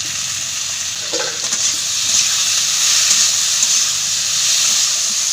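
Chopped vegetables with turmeric and salt sizzling in a hot pan, a loud, steady frying hiss throughout with a brief clatter of stirring.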